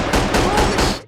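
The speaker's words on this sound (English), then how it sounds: "While I was mining, a gunner suddenly opened fire." Gunfire from a Jenka Army gunner in a territory-control video game, a rapid burst of four loud, close automatic shots in quick rhythm, each crack ending in a short ringing tail, with no voices.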